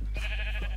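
A sheep in the video game Minecraft gives one short, loud bleat at close range.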